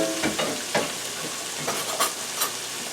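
Three heads of broccoli hit a hot pan on the stove and sizzle, a steady crackling hiss broken by sharp bursts as the pieces land and settle, close and fairly loud with no talking.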